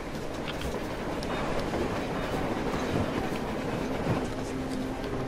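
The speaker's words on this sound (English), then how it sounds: "look, a train!" Train rolling past on the surface in the video game Metro Exodus, a steady rumbling clatter of wheels on rails heard throughout.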